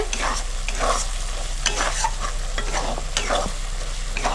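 Spice paste for chicken kosha fries in oil with a continuous sizzle, while a spoon repeatedly scrapes and stirs it around the pan in an uneven rhythm, close and fairly loud.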